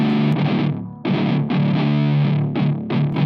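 A heavily distorted, low-tuned guitar riff chugs in short chopped bursts with brief gaps, thick and loud, with no voices.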